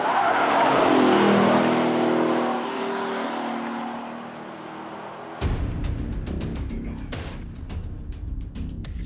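A Chevrolet Corvette Z51 with a 6.2-litre V8 and eight-speed automatic, driven hard on a mountain pass: a loud engine roar rises and falls, then a harsher, gritty rushing drive sound continues close by, with no talking.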